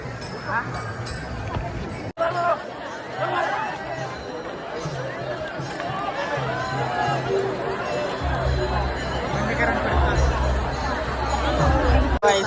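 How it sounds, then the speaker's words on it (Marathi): Dense crowd chatter at a temple darshan, a constant close babble of many voices filling the space, loud and steady throughout. "पण असली गर्दी आहे ना डेंजर, बघू शकतो लय गर्दी"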